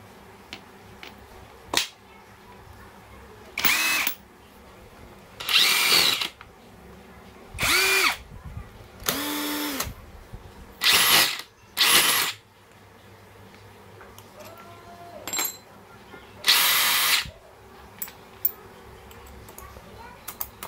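An impact driver fires in a string of short bursts, about eight rattling hammering runs of one to two seconds each separated by quiet gaps with small clicks, close and loud.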